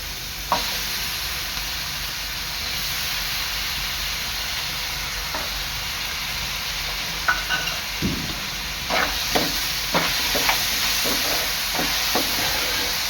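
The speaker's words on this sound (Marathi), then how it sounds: "बटाटा सुद्धा एक तीन ते चार मिनटं तेलावर परतून घ्यायचा" Potato pieces sauté in hot oil with already-cooked onion for a methi and karadi vegetable dish, a steady close sizzle broken by scattered clinks and scrapes of stirring, with no one speaking.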